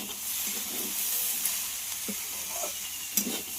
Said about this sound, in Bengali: বাঁধাকপিও ভেজে নেব আলুর সঙ্গে।